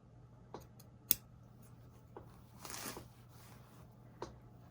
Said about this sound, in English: Take your scissors and cut